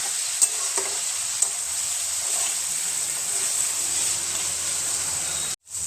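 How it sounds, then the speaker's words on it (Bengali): Potatoes and onion stirred with masala paste in a pan for prawn and potato chorchori: a steady sizzle under soft stirring scrapes and a couple of light clinks, continuous and close. "মশলার সাথে আলু পেঁয়াজটা ভালো করে নাড়াচাড়া করে মিশিয়ে নেব।"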